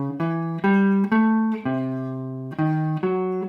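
Blues turnaround voiced from the third, moving 3, 5, flat 7 to tonic, heard as a sequence of about eight struck, ringing chords that each decay before the next, played alone and fairly close.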